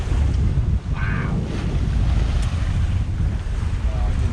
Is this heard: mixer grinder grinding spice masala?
no